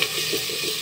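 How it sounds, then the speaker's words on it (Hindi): Chili, coriander, ginger and garlic with turmeric and salt stirred in a pan over low heat for desi chicken karahi, a soft steady sizzle with faint scraping, no voices. "ये डालने के बाद हम मिक्स करेंगे हल्की आंच पे।"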